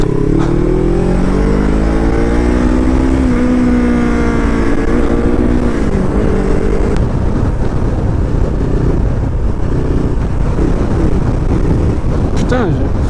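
A motorcycle engine revs in rising and falling sweeps with a clear harmonic whine, close and loud under wind buffeting, then settles into a rougher rumble toward the end.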